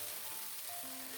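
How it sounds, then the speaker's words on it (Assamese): Ginger paste, about six to seven spoons, frying with browned onion in hot oil in a pan, giving a steady close sizzle that holds evenly throughout with no voices. "এইখিনি ভালকৈ ভাজি"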